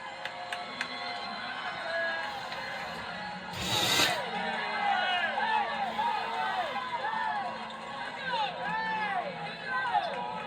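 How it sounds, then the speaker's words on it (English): A pro-West Virginia crowd celebrates a women's basketball victory over Duke, a dense roar of cheering and chatter filling the arena, swelling with a loud burst partway through and staying busy to the end. "the crowd here, a very pro-West Virginia crowd, celebrating this victory"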